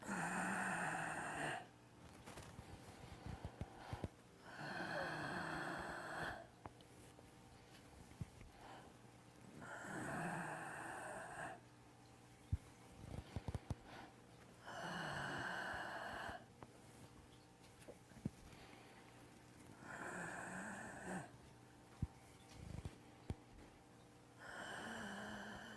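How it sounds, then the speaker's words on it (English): Slow, deep breaths during a yoga breathing exercise in a live class, close and fairly quiet. Each long, airy breath repeats in a steady rhythm every few seconds, separated by brief pauses. "Exhale."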